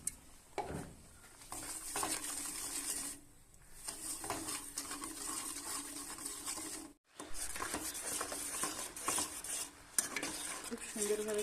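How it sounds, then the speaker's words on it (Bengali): Carrot halwa is stirred in a pan, with scraping and clinking of a spoon against metal over a soft sizzle, repeated close strokes broken by a short pause, no talk. "কিছু সময় কিন্তু এভাবে নেড়ে চেড়ে এই যে রান্নাটা করে নিয়েছি।"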